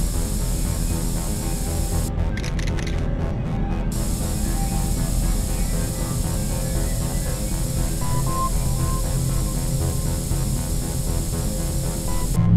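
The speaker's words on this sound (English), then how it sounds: "Good thing I brought some extra spray." Spray paint can hissing as graffiti is sprayed in The Warriors video game, a steady broad hiss running throughout under constant background noise, with a brief pause and sharp bursts near the start.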